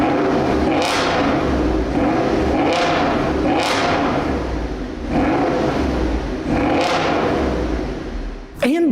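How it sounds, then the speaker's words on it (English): Engine revving on a 2000 Cadillac Deville DTSI with a custom quad exhaust, several loud rising blips spaced a second or two apart over a steady idle rumble, close up. "Take a listen to this car revving a little."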